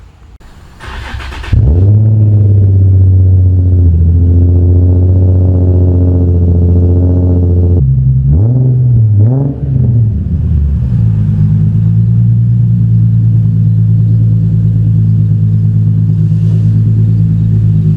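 A Nissan R33 Skyline GTST idles with a loud, deep, steady exhaust drone after a brief startup burst, then revs sharply a few times before settling back into a rumbling idle.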